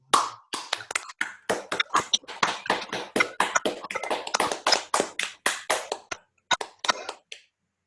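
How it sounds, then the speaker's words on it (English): An audience bursts into applause after a talk, dense hand claps sustained for about seven seconds before tapering off and stopping. "Let's give you a clap."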